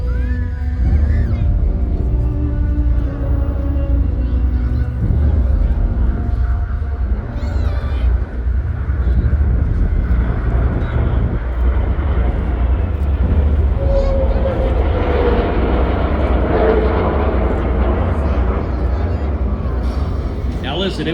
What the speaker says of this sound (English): The KC-135, joined by 2 F-22s.